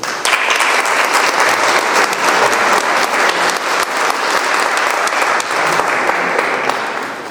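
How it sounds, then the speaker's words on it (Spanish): Steady audience applause at a fortress event in Carchuna, a dense, loud wash of many hands clapping continuously for about seven seconds without pause. "le pedimos un fuerte aplauso"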